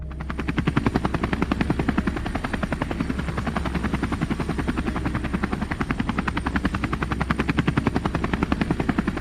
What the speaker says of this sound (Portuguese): Um helicóptero decola de um hangar e sobrevoa o litoral.